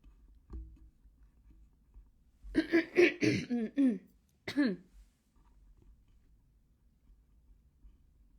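A person clears their throat with a couple of rough, throaty rasps close to the mic, surrounded by near silence.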